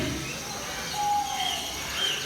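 Philippine eagle owl named Casper calling at an outdoor bird show in a safari park, a drawn-out tonal hoot-like note followed by a shorter higher call, moderately close over steady crowd ambience.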